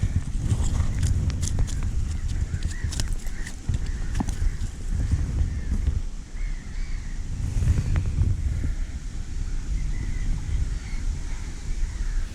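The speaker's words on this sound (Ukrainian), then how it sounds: "вітер сьогодні дує такий, що капець" Strong spring wind buffets the microphone in a constant low roar while fishing, with gusts rising and falling and occasional knocks and rustles underneath.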